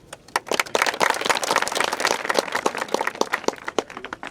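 An audience at a school gathering applauds, dense steady clapping from many hands that stays loud throughout, with a few sharper individual claps standing out.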